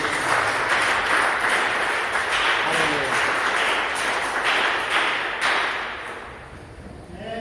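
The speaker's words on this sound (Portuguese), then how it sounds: "Dê uma salva de palmas." A church congregation claps together in a dense, steady burst that lasts nearly the whole stretch, with voices and talking mixed in before it thins out near the end.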